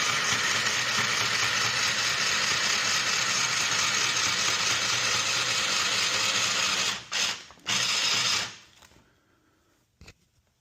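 A sewing machine stitches a seam in patio furniture fabric, a steady continuous mechanical whir running for about seven seconds, then two short bursts before stopping and falling quiet.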